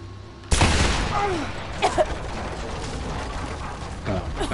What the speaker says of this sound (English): Yeah, explosion in the back.